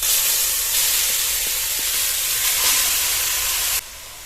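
Coconut paste frying in hot ghee in a pan while coconut sweets are being made, a loud, steady sizzling hiss that continues for several seconds before dropping suddenly to a quieter sizzle near the end.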